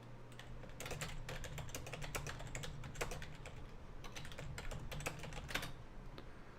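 Soft, quiet clatter of computer keyboard keys comes in quick irregular bursts over a low steady hum, with no voices.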